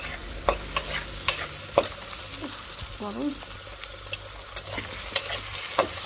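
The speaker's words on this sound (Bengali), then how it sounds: "চিংড়ি মাছ দিয়ে আমি একটু ভালো করে এই তেল পেঁয়াজে ভেজে নিব" Prawns fry with onions in hot oil, a steady sizzle broken by repeated knocks and scrapes of a stirring spoon against the pan, with a brief voice in the middle.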